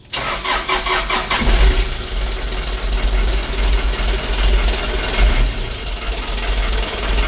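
A 2016 Hino Dutro 130 HD truck with a suspected fuel pump fault cranks and catches, its diesel engine then revving in loud repeated surges, close and continuous with no talk over it.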